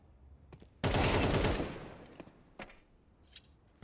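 A loud burst of rapid gunfire erupts in a competitive online shooter match, followed by a few sharp isolated shots, as the headshot lands on an opponent.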